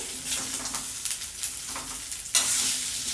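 Muthiya coated with sesame seeds stir-fried in a pan, a steady close sizzle with scraping stirs throughout, growing brighter and louder near the end, no talking.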